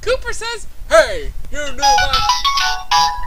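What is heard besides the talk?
mobile phone ringtone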